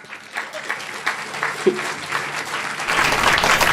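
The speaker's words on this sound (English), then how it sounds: "let me hear you give me a big clap" An audience claps, scattered at first and then building into steady, fuller applause that swells toward the end.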